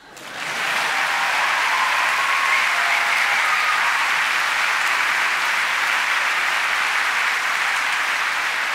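A concert audience applauds the orchestra conductor after a symphonic piano performance, dense sustained clapping from a large hall crowd that swells quickly and holds steady without talk.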